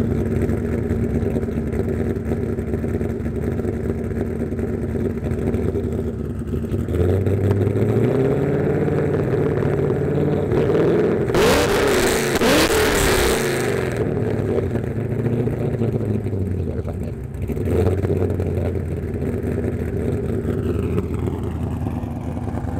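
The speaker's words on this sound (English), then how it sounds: "I personally love the idle exhaust sound because you just hear that chomp." A Nissan 240SX with a swapped LS V8 and a mild cam revs through its exhaust, rising from a steady lumpy idle into several loud climbing and falling revs before settling back, heard alone and close.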